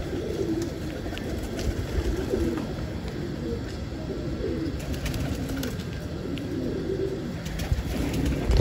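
Soft, low pigeon cooing repeats in gentle rolling phrases over a steady background hiss, fairly close and calm.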